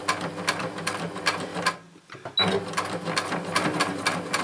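Sewing machine stitching fleece for a hat, a close, steady rapid mechanical chatter that stops briefly near the middle and then resumes at the same pace.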